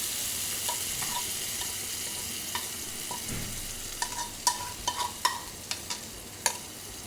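Mixed spice masala stirred into softened tomatoes frying in a pan for Gujarati sev nu shaak, a steady low sizzle broken by a run of sharp spoon-on-pan clinks and scrapes that grow busier toward the end, close up with no talking.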